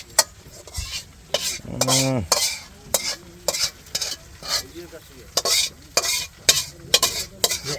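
A one-pot army-style rice and curry dish cooking outdoors in the Sundarbans, with a spatula scraping and stirring in rhythmic strokes over a steady sizzle of frying, close and clear.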